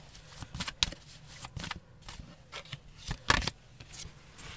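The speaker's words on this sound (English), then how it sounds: "very, very hard to hold all the cards and shuffle in the small space where I am" Playing cards being shuffled in a cramped space, a series of irregular riffling bursts and soft flicks, fairly close, with slight handling noise between them.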